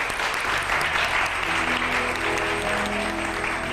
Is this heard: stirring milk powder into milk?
no